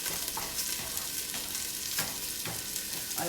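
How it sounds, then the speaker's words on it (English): Sauce sizzles and bubbles in a hot frying pan over medium heat while a utensil stirs it in periodic scraping sweeps, a dense, continuous frying hiss. "Stir my sauce."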